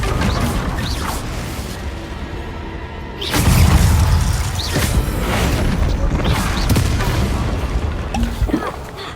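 Booming fire-blast spell explosions from Hogwarts Legacy gameplay, with a heavy blast at about three seconds and then dense, rumbling crashes continuing loudly to the end.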